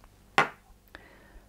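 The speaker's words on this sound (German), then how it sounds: "sprühe ich hier mein Papier" A spray bottle spritzes tap water onto paper being prepared for embossing: one short, close, hissing burst that quickly fades, followed by a faint click and a quiet tone.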